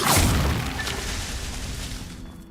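A Bombarda spell going off in Hogwarts Legacy makes a loud, sudden explosion with a bright crash at the start, then a debris-like rumble that fades gradually over a couple of seconds, with nobody speaking.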